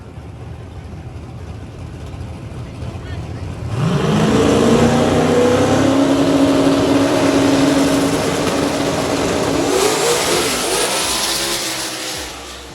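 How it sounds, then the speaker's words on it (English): Drag racing cars, including a black Camaro, at a grudge race: an engine roars up loudly after a quieter stretch, holding a rising, sustained howl before fading, with crowd noise beneath. "It's down to Shannon, that black Camaro that outrun me, and John Dock, so 3 cars."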